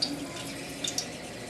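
Green onion sizzles and bubbles in about half an inch of hot cooking oil in a pan, a steady fizzing crackle with a few small pops, fairly close and moderately quiet.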